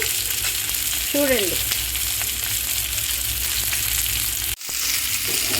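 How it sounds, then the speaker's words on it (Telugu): Fish pieces fry in hot oil in a pan, giving a steady, loud, dense sizzle throughout with a brief stir and a sudden short dropout near the end. "చూడండి చేప ముక్కలు బాగా వేగిపోయినాయి."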